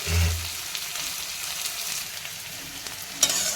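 Sliced onions fry in hot oil without salt for crispy beresta, giving a continuous bright sizzle at close range. A dull knock sounds at the start and a sharp tap near the end.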